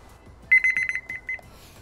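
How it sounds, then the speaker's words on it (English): A ThermoWorks Big and Loud kitchen timer goes off with a burst of rapid, piercing electronic beeps, a quick cluster followed by a few more after a short gap, loud and close in a quiet room. "I'm just gonna go set a timer on my ThermalWorks Big and Loud timer"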